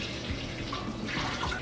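Water pours steadily into a cooking pot as a quart is added to a Cajun dish, giving a continuous soft splashing rush that runs through the whole moment without talk.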